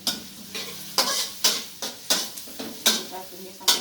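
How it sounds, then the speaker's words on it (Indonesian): Ingredients being stir-fried in a pan until wilted while making nasi kebuli, a loud sizzle broken by a regular rhythm of about eight spatula scrapes and tosses, close up. "Kita tumis sampai layu."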